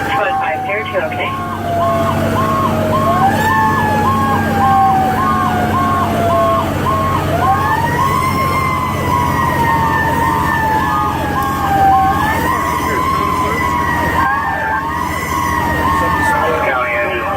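A fire truck's Federal Q mechanical siren wails and winds up and down continuously from inside the cab during a ride along, loud and close, with a horn blast and radio chatter mixed in.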